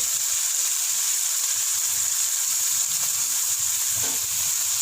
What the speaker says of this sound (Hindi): प्याज को हम हल्का सा फ्राई करेंगे कि इनका पानी खुश्क हो जाए।